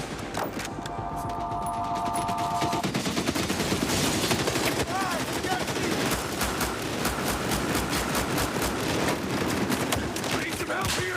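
Heavy gunfire in an EA video game demo at a press conference: sustained rapid bursts of automatic weapons and shots crackling loudly and continuously, with shouted voices and other game sounds mixed in.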